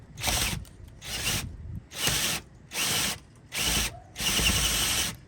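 A power drill with a 7/8 bit bores a pocket for a ledger bolt in balcony framing, sounding as six loud close whirring bursts separated by short pauses, the last burst running longer.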